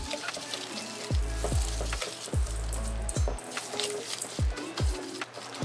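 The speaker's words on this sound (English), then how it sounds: "All right, we're going to mix this stuff up." Crab ball ingredients are stirred with Duke mayonnaise in a bowl, giving soft, wet, squishy mixing sounds with several rhythmic thumps of the spoon against the bowl, close and moderately quiet.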